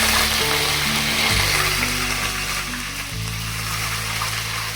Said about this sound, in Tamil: எண்ணெய் ஊற்றி கடுகு சீரகெல்லாம் போட்டாச்சு, பொரிஞ்சு வந்துருச்சு